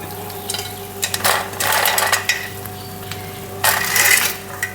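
A spoon stirs a rava breakfast with raisins in a pot, making bursts of scraping and clattering strokes, fairly close and clear, with no talking.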